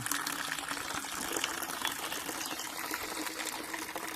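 Water runs from a tap in a steady, faint splashing gush that continues evenly throughout.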